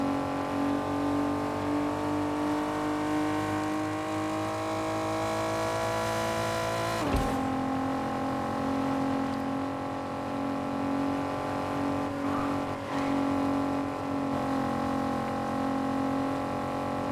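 A race car engine in Fortnite drones steadily at high revs through a long stretch, with one brief gear-change dip midway, continuous and close with no talk.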